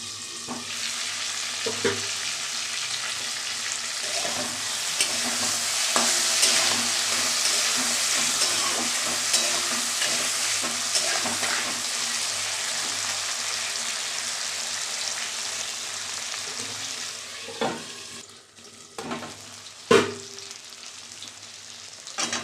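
Ground onion and green chili paste frying in a pan for rui fish curry with potato and eggplant, a steady close sizzle throughout with occasional utensil knocks and scrapes toward the end.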